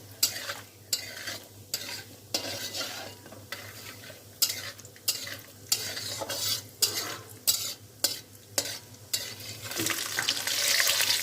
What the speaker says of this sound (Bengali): কাজু ভাজা হয়ে গেছে